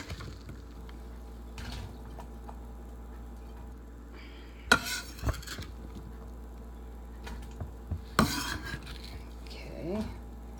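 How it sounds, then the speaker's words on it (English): Ingredients tossed into a cooking pan in a home kitchen: two loud clattering clanks of food and utensil hitting the pan, followed by faint sizzling and light scraping, with a low background hum and no talking. "So, now we'll throw these in the pan."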